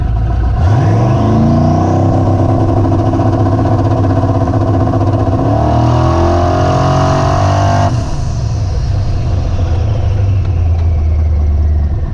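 A car with a 4L80E automatic transmission held on a trans brake, its engine revving hard and loud at close range, pitch climbing and holding at high revs, then easing back and settling near idle, with no voices.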